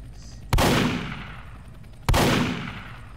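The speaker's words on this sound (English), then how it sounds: "This gun is so loud." Two loud, sharp gunshots from a gun in the Roblox game Redwood Prison, spaced about a second and a half apart, each with a long ringing decay and no talking over them.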